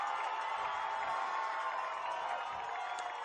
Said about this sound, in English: And so the crowd is getting into it.